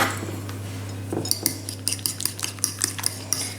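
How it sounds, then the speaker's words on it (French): Metal utensil clinking and scraping against a bowl while quiche filling with spices and grated cheese is stirred, a quick irregular run of bright taps over a steady low hum. "je vais mélanger tout ça pour en faire un appareil à quiche"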